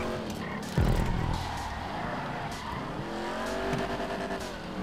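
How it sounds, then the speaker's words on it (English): Cars crash into each other in a GTA 5 stunt race: one sharp impact thud early on, then continuous engine roar and tyre skidding that stays loud to the end, with no voices. "a little crisscross crash there"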